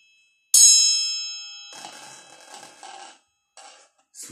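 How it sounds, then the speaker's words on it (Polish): A bright metallic triangle ding rings out and fades, then a plastic cup resting on it vibrates with a thin rattle-buzz in short bursts, fairly close and with no talking. "Słyszycie, jak ten kubeczek drga?"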